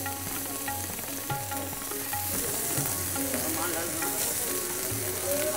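Ginger-garlic paste frying in a pan for mutton dopiaza, giving a dense, continuous sizzle with faint stirring scrapes, close and steady throughout.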